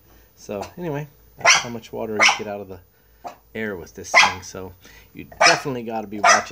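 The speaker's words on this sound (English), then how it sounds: "that's my dog not realizing it's me sitting down here behind the chair" A pet dog barks a few times indoors near a portable air conditioner, the sharp barks mixed in with someone talking steadily over them.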